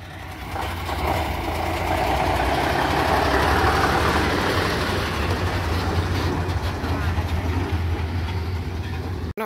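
A tram rumbles steadily past at close range, a continuous low rolling drone with rising and fading wheel noise, no voices.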